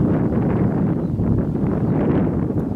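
Wind buffeting a microphone outdoors on a lakeside walk in the Shawangunk Mountains, a steady close, rumbling roar with no voices.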